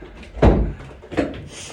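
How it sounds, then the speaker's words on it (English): A door swung shut with a loud thud, followed by a softer second knock as it settles, close by in a quiet room. "I have to close the door."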